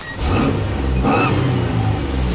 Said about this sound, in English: Revs up great.